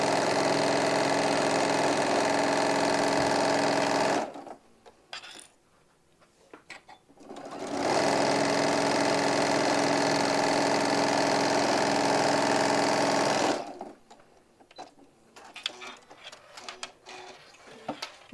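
A sewing machine stitches a quarter-inch seam on a hobo bag in two long, steady runs of about four and six seconds, each a close, even motor whir, with quieter handling pauses between and after them and no talking.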